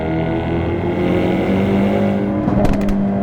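A Hyundai Elantra N's exhaust drones loudly from inside the moving car, a sustained engine note that shifts in pitch, with a few brief sharp pops near the end.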